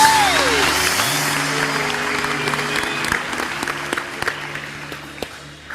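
A studio audience applauds a singer on a television show: dense, sustained clapping fills the room after a brief electronic tone sweep at the start, then thins toward the end.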